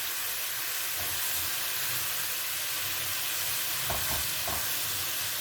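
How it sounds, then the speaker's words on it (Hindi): Masala frying in a pan gives a constant, even sizzle, with a few soft stirring scrapes near the end. "1-2 दफ़ा हम ये प्रोसीजर दोहराएंगे ताकि अच्छा सा मसाला भून जाए।"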